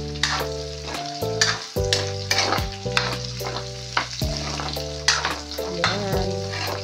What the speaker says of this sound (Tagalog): toasted muna natin yung ating pork